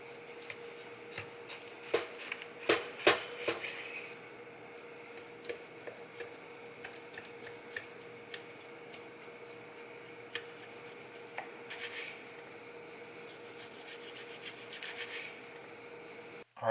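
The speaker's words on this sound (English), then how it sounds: "Now I'm pretty much just cubing this up into about 1 inch, half-inch cubes here." A knife works through meat on a cutting board, cubing beef for carne guisada, with soft scraping rubs and scattered light taps, steady and close over a constant background hum, without talk.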